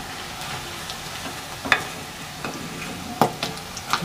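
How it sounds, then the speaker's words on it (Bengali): Paneer pieces frying in hot oil: a steady soft sizzle runs throughout, broken by a few sharp clinks and scrapes of a utensil stirring and lifting the pieces. "এরকম পনির ভাজা হচ্ছে"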